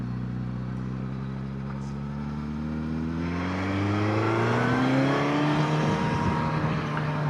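A Suzuki GSX-S1000GX motorcycle engine accelerates hard and continuously, its pitch climbing through the gears as it grows louder, with no talking.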